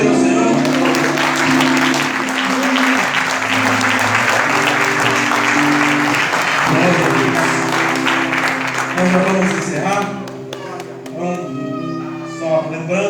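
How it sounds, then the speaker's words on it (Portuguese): A church congregation at a Tuesday worship service claps along steadily under sustained music and singing voices, dense and fairly loud, tapering off near the end as talking resumes. "Vamos aplaudir."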